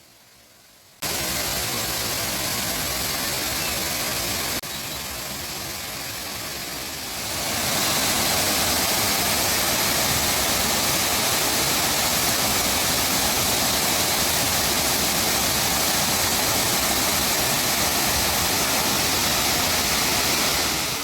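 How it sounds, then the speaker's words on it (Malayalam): Manneera Waterfall gives off a dense, continuous roar of falling water that starts abruptly and swells louder partway through, steady and broadband with no voices. "വെള്ളച്ചാട്ടം വളരെ മനോഹരമാണ്."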